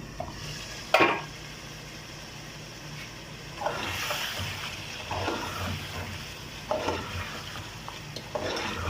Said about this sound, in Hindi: मुर्गी हमारी अच्छी तरह भून चुकी है।